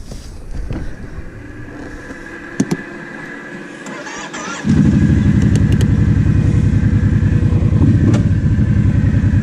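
A project car engine turns over and catches after sitting for six months, then settles into a loud, close, steady idle with a throbbing low rumble that carries on to the end.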